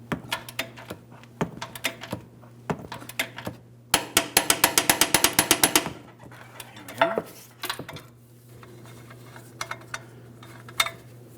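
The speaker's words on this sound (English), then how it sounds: "Just go ahead and get that nut off of there." A ratchet wrench spins a nut off the front upper control arm of a 2007-2014 GMC Sierra 2500 HD, with scattered clicks, then a fast burst of ratchet clicks in the middle, then sparse metallic taps against a steady hum.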